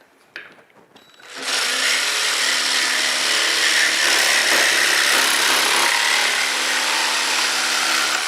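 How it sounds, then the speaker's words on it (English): A handheld jigsaw cuts metal in a straight cut, starting up after a moment and then buzzing loudly and steadily with a harsh rasping blade noise for several seconds. "with the right blade, I can cut metal, and the tool does really well"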